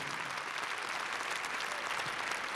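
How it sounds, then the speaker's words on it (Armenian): An audience applauds at a national music awards ceremony, a dense, steady wash of clapping from many hands filling the whole stretch. "ծափարենք եւ թող այս ջերմությունը հասնի նրանց"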